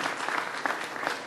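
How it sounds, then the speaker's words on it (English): A crowd at a 2014 transportation kick-off event in Prince George's County applauds Senator Ben Cardin, a dense, even wash of clapping from many hands throughout. "let's give Ben another round of applause"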